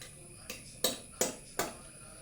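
A pressure cooker lid being fitted and closed in a home kitchen, giving four evenly spaced, fairly faint metallic clanks against quiet background.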